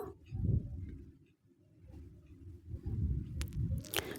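Wet rice grains slide and squish as they are tipped out by hand, a soft, close, grainy rustle with a few small clicks near the end.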